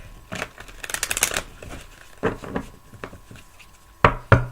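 A deck of cards is shuffled by hand, giving bursts of rapid riffling flutter followed by softer shuffles and a couple of sharp taps as the deck is squared, with no talking.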